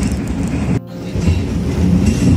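A train running on rails between Lahore and Jhelum, heard from on board as a loud, continuous rumble and rattle that drops briefly and then resumes.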